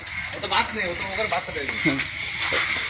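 Dal puri, the lentil-stuffed Bengali flatbread, sizzles and crackles as it fries in hot oil, a steady bubbling hiss under nearby voices talking.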